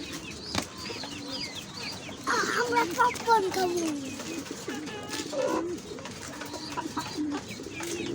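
Pigeons coo softly and repeatedly nearby, with a person speaking over them partway through and faint background noise.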